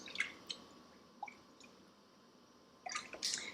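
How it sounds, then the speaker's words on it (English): A hand-knitted item is pushed down into a basin of water, making faint, close drips and soft squishy splashes in scattered small bursts, with a slightly busier splash toward the end. "You're literally just pushing your knitted item in the water."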